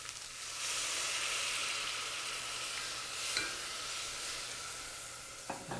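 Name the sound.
deglazing a hot pan with vegetable stock, sizzling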